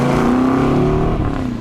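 A Chevelle fitted with a Flowmaster 2.5-inch American Thunder exhaust accelerates, giving a loud, close, rising engine drone that holds steady and then tapers slightly, heard alone without talk.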